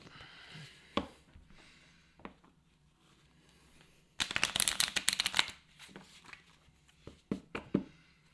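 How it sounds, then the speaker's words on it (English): Wingspan board game cards being shuffled by hand, a crisp riffling burst in the middle framed by scattered taps and card handling, fairly close and quiet. "And then we'll just shuffle it up."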